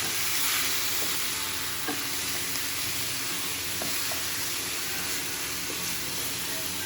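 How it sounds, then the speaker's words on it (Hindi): Steady loud sizzling from a frying pan, with occasional scraping clicks as chopped onion is stirred around. "प्याज लेने के बाद आप इसको थोड़ा सा हिला लें।"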